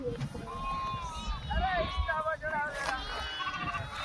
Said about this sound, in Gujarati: ઘેટા બકરા અહીંયા આવ્યા હતા